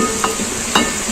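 Aloo keema stirred in a hot pan over a stove, with a steady frying hiss and two distinct scrapes of a spoon against the pan, close and fairly loud.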